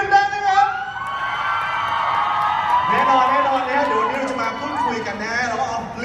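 A crowd of fans screams and cheers loudly at a TV series launch stage event, high-pitched shrieks and whoops blending into a sustained roar.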